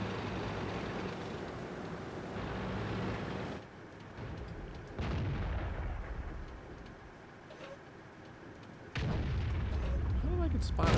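Tank gunfire and heavy engine rumble in the World of Tanks video game, with loud booming shots against a constant droning background, several abrupt blasts and shifts in level across the stretch.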